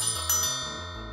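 A small silver bell rings once with a bright, shimmering tone that hangs and slowly fades, with no voices present.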